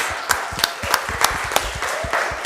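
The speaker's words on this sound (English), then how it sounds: "Can we give applause?" Applause from a small press-conference audience after a FIBA Asia Cup 2022 Lebanon v Australia game, steady overlapping claps with a few sharper hand strikes standing out, moderately near and filling the room with no voices over it.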